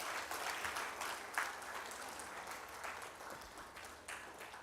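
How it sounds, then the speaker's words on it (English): Audience applause at a supplier development workshop as the UNOC team stands for recognition, a steady dense patter of many hands clapping at moderate distance, fairly quiet and sustained throughout with no speech over it. "So let's give them a big hand clap."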